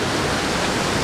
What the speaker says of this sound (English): this is just really a constant waterfalls all the way from the bridge.